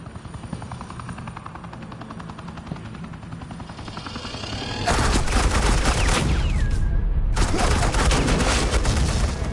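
A helicopter drones in Batman: The Enemy Within, then suppressing gunfire erupts into loud, dense, continuous volleys that pause briefly and resume over the rotor noise.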